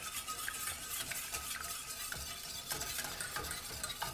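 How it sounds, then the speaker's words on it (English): An egg being whisked by hand for Japanese milk bread roll dough, a busy stream of quick scraping, tapping strokes with an uneven rhythm, close and steady with no voices. "we're going to add 1 egg. That's 1 large egg. Whisk, whisk, whisk."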